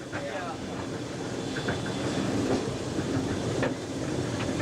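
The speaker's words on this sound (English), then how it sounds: "It's nice to hear a steam engine work." A steam train works nearby with a steady rumble and a rhythmic mechanical clatter, mixed with some wind noise.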